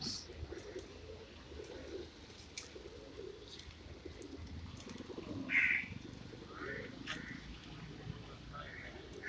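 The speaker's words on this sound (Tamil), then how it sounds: "இவ்வளோ புறாக்கள் இருக்குது" A flock of pigeons outside a temple in Mumbai coos softly amid a busy outdoor hum of crowd and street noise, with faint chirps and scattered voices in the background.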